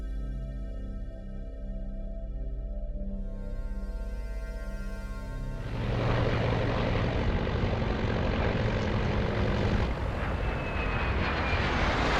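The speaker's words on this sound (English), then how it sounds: "Continental Connection Flight 3407, operated by Colgan Air, is en route from Newark, New Jersey to Buffalo, New York." Continental Connection Flight 3407, operated by Colgan Air from Newark to Buffalo, in flight: a steady droning propeller-engine hum with layered tones, then a louder, rougher broadband roar takes over midway.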